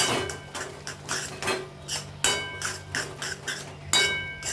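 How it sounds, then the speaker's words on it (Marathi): Repeated metal-on-pan mashing strikes, about a dozen close, rhythmic knocks and scrapes as goat brain chutney with bhendi is pressed and worked in a pan; no talking. "त्याला चांगलं असं मॅश करून घ्यायचं"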